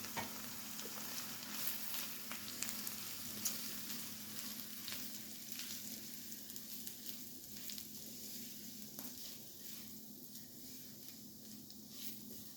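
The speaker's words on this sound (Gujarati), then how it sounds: "હવે આપણે આ સોતે થઈ ગયા છે એટલે એની અંદર આપણે રવો એડ કરીને એને પણ શેકી લઈશું." Semolina (rava) roasts in a pan with chilies and ginger for upma, giving a soft, steady sizzle with light scraping and stirring taps throughout, fairly close and quiet.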